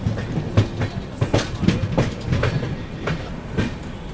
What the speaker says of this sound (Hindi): ट्रेन अपनी पहुंच रही है रतलाम जंक्शन